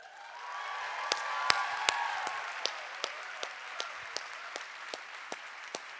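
An audience applauds a guest speaker at a competition event, dense clapping that swells and then thins out, with a few sharp individual claps standing out near the end.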